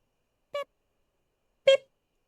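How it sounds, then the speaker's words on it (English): Two short electronic beeps from a character in the video game Date Everything, spaced about a second apart against silence, the second slightly louder and longer. "I guess I've been beeping for a while now"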